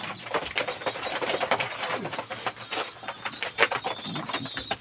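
Qatawi pigeons, a breed with feathered legs, coo steadily at close range, with layered overlapping coos, chirps and occasional wing flutters in a busy loft, and no talk.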